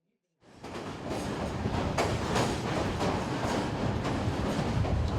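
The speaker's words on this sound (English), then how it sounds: "Time to get back on board the train." A train rumbles steadily after a brief silence, with rhythmic clicks of wheels over rail joints sounding throughout at close range.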